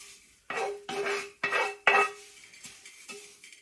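Homemade kadaifi is tipped out of a metal pan in a series of four or five clattering scrapes and knocks, close and fairly loud, each followed by a short ringing tail, with softer taps trailing off at the end.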